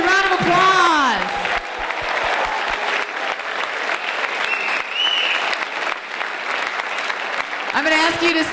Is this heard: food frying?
no